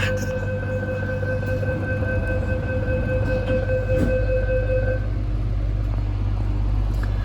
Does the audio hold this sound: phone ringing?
no